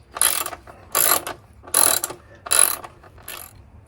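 Five crisp ratchet-spanner bursts loosening Loctited bolts on a Honda Rebel 500 motorcycle's rear rack, each clicking run lasting about half a second with short pauses between, close and clear with no talking.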